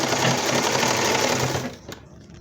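A sewing machine runs a quick, even line of stitching on the piping of a baby frock for about a second and a half, then stops with a soft click, heard close up.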